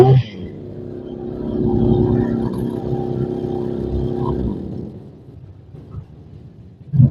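A small sprayer engine revs after carburetor tuning, a close, low droning rumble that swells, holds and then drops back toward idle before a brief final burst.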